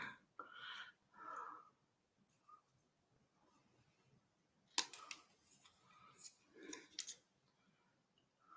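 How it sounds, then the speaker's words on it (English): Paper banner cut out with scissors, a few close snips and crisp slicing strokes spread across the clip, with faint breathy sounds in between. "So we're just going to cut out this banner."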